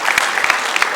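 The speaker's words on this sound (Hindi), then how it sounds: "एक बार जोरदार ताली बजाओ" Brief, loud applause from an audience at a Hindi comic poetry show, a dense burst of clapping with a few sharper claps poking through.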